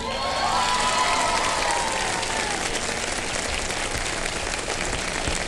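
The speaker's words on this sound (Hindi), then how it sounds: "आप लोग तालियां बजाए बगैर रह नहीं सकेंगे" A studio audience at a televised Ramadan iftar show breaks into sustained applause with some cheering, a dense, even wash of clapping heard throughout.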